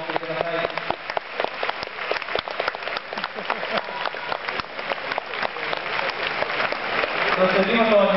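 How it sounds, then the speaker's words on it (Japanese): Stadium crowd applauding after a Japanese mascot title match, with the Kawasaki Frontale mascot crowned champion; dense, steady clapping throughout, heard through a band-limited recording. "フロンター君に盛大な拍手をお送りください"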